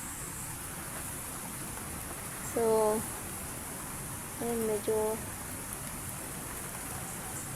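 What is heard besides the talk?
rain getting heavier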